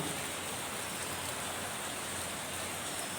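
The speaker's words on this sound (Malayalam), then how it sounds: "എറണാകുളം കാക്കനാട് ഭാഗങ്ങളിൽ പെയ്യുന്ന മഴയുടെ ദൃശ്യങ്ങളാണ് നമ്മൾ കാണുന്നത്" Heavy rain falls in Kakkanad, Ernakulam, a dense, unbroken hiss of downpour that stays loud and even from start to finish.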